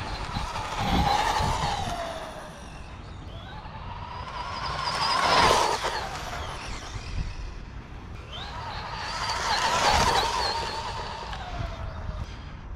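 A Traxxas Bandit VXL RC car on a speed run makes three passes at full throttle, its electric motor whine rising and falling in pitch as it approaches and speeds away, loud up close over an outdoor background hiss.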